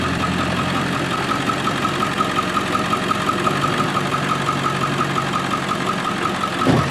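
A 2000 Ford F-250 pickup engine runs at a steady, loud idle-like drone as the truck is maneuvered around in a driveway, with a rhythmic knock and a bump near the end.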